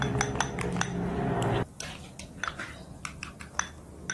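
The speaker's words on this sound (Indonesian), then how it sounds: "Sekarang kita kocok telur dan daging dari tomatnya serta biji tomat tadi. Ini kita kocok sampai semuanya merata." Eggs whisked with tomato flesh and seeds in a bowl, a rapid run of clinking, tapping strokes against the bowl that steady briefly, then break into scattered sharper clinks, close and fairly loud with no voices.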